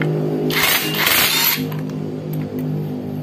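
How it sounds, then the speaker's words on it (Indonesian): An impact wrench fitted with a 22 mm socket loosens a motorcycle clutch nut on a Suzuki Satria FU. It gives one loud, close burst of about a second, followed by quieter handling noises and a low hum. "Pakai impact lebih mudah."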